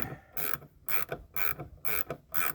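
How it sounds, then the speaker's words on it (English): A ratchet wrench removing the brake master cylinder on a 2001 Ford F250 gives bursts of quick clicking, about five rhythmic strokes in a row, close and fairly quiet. "Ratchet for the win."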